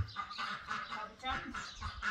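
Agitated chickens squawking and clucking repeatedly, several birds calling over each other close by in a garden, with a voice talking intermittently underneath.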